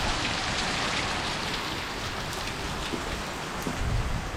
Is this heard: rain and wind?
yes